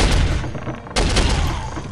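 Heavy gunfire from the slug thrower weapon in the video game Soldier of Fortune, loud and dense, with booming blasts and a sharp new burst about midway through.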